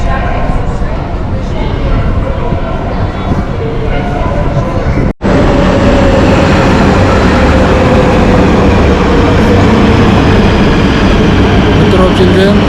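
Istanbul metro train running on the Asian side, a steady loud rumble and rail roar filling the carriage, with a brief dropout midway and voices talking over the continuous noise.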